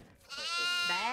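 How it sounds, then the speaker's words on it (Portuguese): A goat bleats in the horror video game Devour, one long wavering cry that rises and holds, loud and close over a faint background. "Peguei uma cabra."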